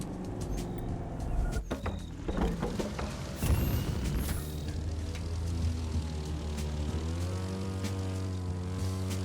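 A car in the racing game The Crew 2 transforms into a plane: engine rumble and mechanical clatter give way to a steady propeller drone with rising tones, loud and continuous without talk.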